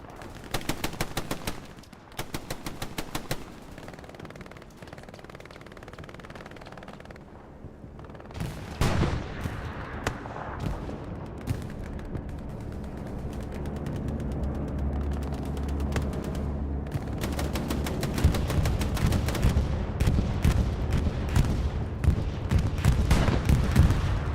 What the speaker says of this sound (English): Bombing run goes on through, and it gets, I think I got 3 in that one.